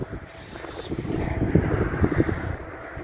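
Wind blows across open countryside in the Loire region, gusting in bursts of buffeting rumble against the microphone, rising and falling over a few seconds with no talking.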